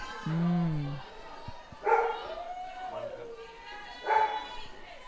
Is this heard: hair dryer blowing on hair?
no